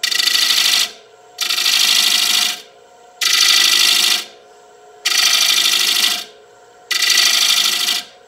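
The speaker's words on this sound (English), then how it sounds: "I usually do this with a bowl gouge. This is a good old half-inch Thompson bowl gouge. And I use a scraping cut" A half-inch Thompson bowl gouge takes a light scraping cut on a spinning wooden bowl, giving five loud, even bursts of hissing scrape separated by short pauses, close and alone.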